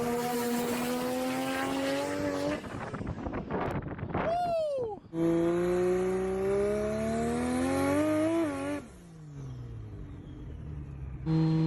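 A Foxbody car with a swapped Barra engine revs and accelerates loudly nearby, its pitch rising through gear changes before easing off, with wind buffeting the microphone and a voice talking over it.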